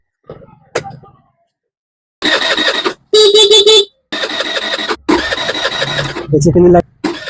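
Several loud blasts of a motorcycle horn, each lasting about half a second to a second and a half, with short gaps between, preceded by a faint click.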